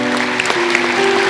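Applause at a school academic awards ceremony honoring students, a dense wash of clapping over a sustained tonal hum, with voices faintly mixed underneath.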